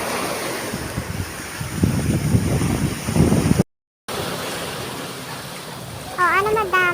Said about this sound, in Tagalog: Sarap ng hampas ng alon, guys